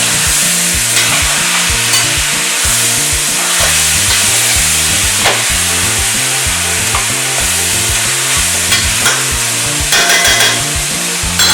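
Diced tomatoes being stirred into eggplant frying in a pan, a steady loud sizzle broken by rhythmic scraping strokes of the spoon, close up with no talk.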